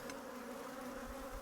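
Honey bees from a backyard hive swarming close around a face, a dense continuous droning buzz, loud and near, with no voices.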